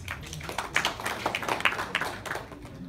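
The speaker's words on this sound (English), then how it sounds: "we start with a huge round of applause" A crowd at a live Premier Futsal event gives a round of applause, heard as a fairly faint, steady patter of many hands clapping with no talking over it.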